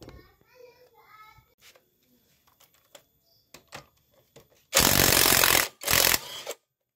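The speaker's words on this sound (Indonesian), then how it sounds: "di sini ada empat baut, baut kop silinder kita lepaskan juga" Cylinder head bolts come off a Yamaha Jupiter motorcycle engine, with scattered light clicks and taps and a faint voice before two loud, harsh mechanical bursts near the end, close to the microphone.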